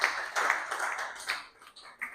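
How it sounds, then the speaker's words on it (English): An audience at an awards ceremony applauds in a steady patter of many hands clapping, moderately loud, easing off briefly near the end before picking up again. "let's give another round of applause to Mr."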